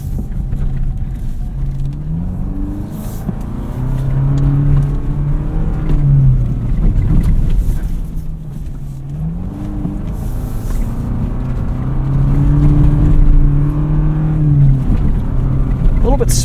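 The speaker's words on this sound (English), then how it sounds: "Bit spicier of an exhaust than the TRD off-road that we drove earlier today." A Toyota 4Runner TRD Pro engine and exhaust rumble as the SUV accelerates off-road, droning tones rising and falling through gear changes in two long surges, with a person talking over the loud cabin noise.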